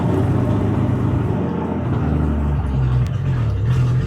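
A Ford Fairlane 500 engine running loud and close, a deep throbbing rumble whose pitch shifts and rises partway through as it is given more gas.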